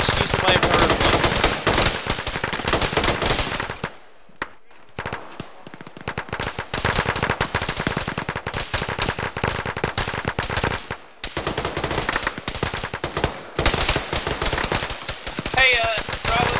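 Sustained automatic gunfire in a shooter video game, loud rapid bursts filling most of the stretch, briefly dropping out twice before the shooting resumes, with voices talking over it.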